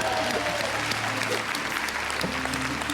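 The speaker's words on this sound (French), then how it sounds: "C'est bon, arrêtez d'applaudir." Studio audience on a French television game show applauding, dense steady clapping throughout at moderate level with a few voices mixed in.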